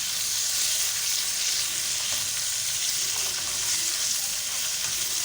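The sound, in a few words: frying spices and green cardamom in a pan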